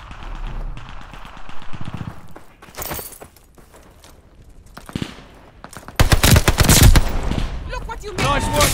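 Bren machine gun fire in the Call of Duty: Vanguard shooter, with bursts of rapid automatic shots cracking loudly amid other battlefield gunfire, the heaviest volley coming late and close.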